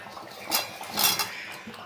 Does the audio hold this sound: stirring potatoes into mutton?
yes